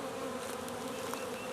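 Honeybees drone steadily during a first hive inspection around an opened hive with a sugar syrup feeder, a close, continuous, faint hum with no talk.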